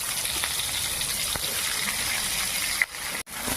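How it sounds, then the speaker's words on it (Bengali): Dried chillies and panch phoron five-spice hit hot oil for tempering, giving a steady, close, hissing sizzle that runs evenly throughout, broken near the end by a brief dip and a sharp cut. "এটা শুকনো লঙ্কা আর 5 ফোড়ন আমি ফোড়ন দিচ্ছি।"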